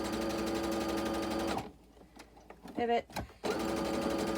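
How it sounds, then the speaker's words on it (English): A sewing machine stitches the seam of a fabric face mask, running as a loud, steady rapid whir that pauses briefly for a few clicks and a short spoken word, then resumes at full speed. "I'm sewing about, I don't know, maybe a 3/8 inch seam allowance."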